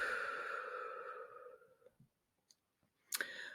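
A single deep breath, a long audible inhale-exhale that fades into quiet, followed by a faint click and a short sharp sound, all close and soft.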